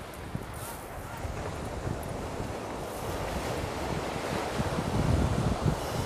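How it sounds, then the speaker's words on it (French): Wind buffets the microphone at the seaside while waves wash in steadily, a broad continuous rush that swells slightly toward the end. "un petit peu de vent."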